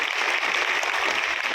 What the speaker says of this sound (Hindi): तालियों को स्वागत करें।